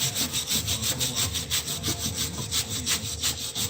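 A wire brush scrubs the brake parts of a 2008 Honda Accord during a front brake pad job, giving fast, rhythmic rasping strokes that are close, steady and continuous, with no talking.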